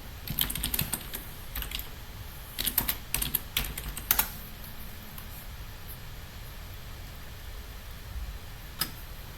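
Clicky typing on a computer keyboard at a console, bursts of quick keystrokes early on, then fading to a quiet hiss with one last isolated tap near the end.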